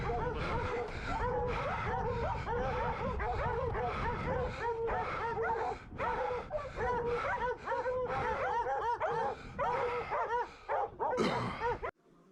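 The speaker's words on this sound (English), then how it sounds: "So now all the dogs are chasing this one coyote." A pack of hounds in full cry while chasing a coyote during coyote season, many dogs baying, yipping and barking continuously and loudly, overlapping without pause for the whole stretch.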